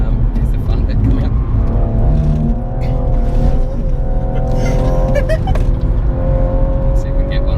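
A BMW M135i pulls hard down a straight at Bruntingthorpe during a charity track event, the engine note rising steadily through the gears, loud and close from inside the cabin, with people talking over it.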